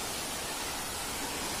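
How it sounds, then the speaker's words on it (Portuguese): Cachoeira Véu das Noivas waterfall near Lago do Turvo, São Paulo, a dense, steady broadband roar of falling water filling the whole short stretch with no pauses, heard close and alone. "Gente, que coisa linda, a Cachoeira Véu das Noivas."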